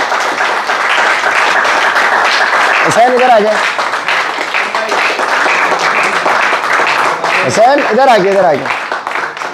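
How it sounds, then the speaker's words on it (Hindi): Office staff clap for themselves during a product-knowledge training session, a steady patter of applause running the whole time while people talk and call out over it. "तो जिस जिसके आए थे वो तालियां बजा ले अपने लिए जोरदार।"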